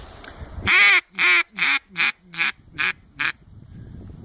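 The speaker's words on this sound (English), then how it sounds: "5 to 7 notes of that quack sound in descending order" A duck call blows seven loud, nasal quacks in a steady descending series, each note shorter and lower than the last.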